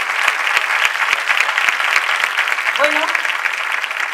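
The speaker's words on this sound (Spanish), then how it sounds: "Un aplauso." Audience applause at a choir's Christmas concert rolls on steadily and densely, with a voice briefly speaking over it.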